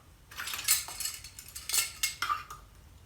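A metal measuring spoon clinks and scrapes against a container while baking powder is leveled off for beer bread, several light metallic taps and scrapes in an uneven rhythm, close and quiet, with no voices.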